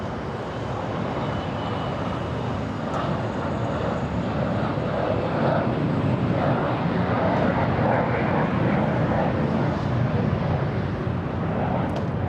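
A Delta Boeing 777-300 airliner at LAX airport gives a steady, broad jet roar that holds at even loudness for a dozen seconds, heard from a distance with no voices.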